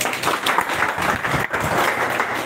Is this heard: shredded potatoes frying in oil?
no